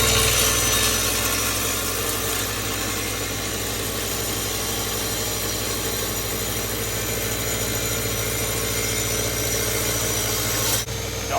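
A Parkside wet tile saw from Lidl runs in a damp shed, a steady loud motor hum with spraying water and vibration, stopping abruptly near the end.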